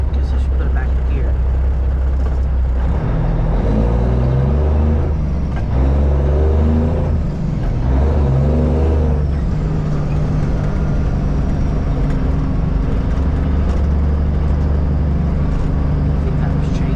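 A semi truck put back in gear while driving into woods, its deep engine rumble rising and falling with shifting gear tones, loud and close inside the cab, and a voice talks over it.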